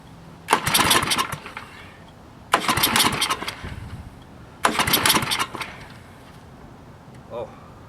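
An old snowblower engine is pull-started with the choke on and throttle near three-quarters, giving three loud, rough bursts of sputtering and cranking, each about a second or two long, separated by short pauses, with a faint voice near the end.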